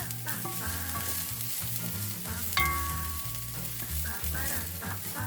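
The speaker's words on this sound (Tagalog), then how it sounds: "Ngayon ay umpisahan na nating igisa ang bawang. Sibuyas, luya, chili," Garlic, onion, ginger and chili sautéing for spicy mussel adobo, a continuous close sizzle with spatula scrapes and a brief metallic clink, moderately quiet.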